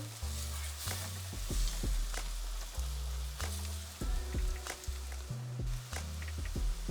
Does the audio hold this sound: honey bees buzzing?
no